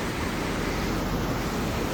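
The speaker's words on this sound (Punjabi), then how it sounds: "ਪਾਣੀ ਬਾਈ ਕੱਲ ਨਾਲੋਂ ਵੀ ਅੱਜ ਵੱਧ ਆ ਸਪੀਡ ਦੇਖੋ ਪਾਣੀ ਦੀ" Steady, dense roar of rushing floodwater in the river at Ropar, Punjab, swollen by water released from Bhakra Dam, filling the whole clip, loud and close with no pauses.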